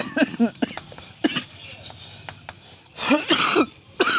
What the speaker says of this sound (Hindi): खांसी बहुत हो रहा